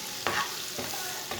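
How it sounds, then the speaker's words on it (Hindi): Boiled black-eyed peas are stirred with a spoon as they fry in spices and chopped green chilies, with three scraping strokes over a steady, soft sizzle. "ऐसे ही इसे चम्मच चलाते हुए भूनना है"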